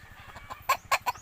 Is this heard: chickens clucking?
yes